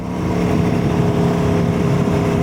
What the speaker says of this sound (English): I'm going to take this Aprilia Tuono V4 1100 factory for a ride around the Black Mountain